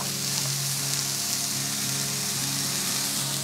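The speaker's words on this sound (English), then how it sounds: "let that saute for about 5 minutes" Vegetables for a vegan cheesesteak sautéing in a pan, a steady, loud, even sizzle with no pauses, heard alone.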